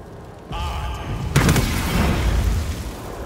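A fire spell in Baldur's Gate 3 ignites its target: a soft whoosh starts after a quiet opening, then a sharp burst strikes and a roaring crackle of flame rumbles on to the end.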